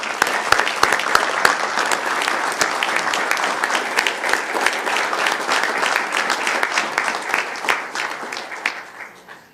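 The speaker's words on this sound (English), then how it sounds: "Our hands are clapping for y'all." An audience at a City of Irving city council meeting breaks into sustained applause, a thick, close burst of many hands clapping that holds strong before gradually thinning and trailing off at the end.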